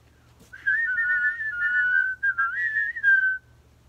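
A single person whistles a short wavering tune, clear and close, for about three seconds against near silence.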